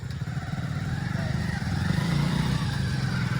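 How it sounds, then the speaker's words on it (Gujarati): A motorcycle engine runs steadily through heavy rain in a flooded stadium area, a continuous low rumble close by under the hiss of rainfall, with no voices. "હજુ જો બાઇક ચાલુ કરે પરાથી"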